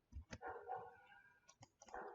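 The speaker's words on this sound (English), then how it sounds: "That's the neighbor's dog making noise" A small dog barks a few times in the distance, faint and intermittent, with short yips between the barks.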